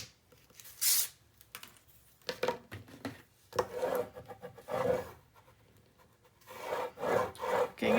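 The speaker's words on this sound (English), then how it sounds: "give that a good old burnish." Repeated rubbing strokes of a burnishing tool pressed over paper while building a 9 x 9 mini album, short scratchy bursts in uneven rhythm, close and quiet.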